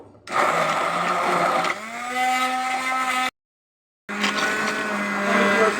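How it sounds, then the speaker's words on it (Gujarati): Electric blender whirring loudly as it blends mango ras with sugar syrup, a steady motor drone that shifts pitch partway, cuts out for under a second, then starts up again. "બ્લેન્ડરથી બ્લેન્ડ કરી લેશું"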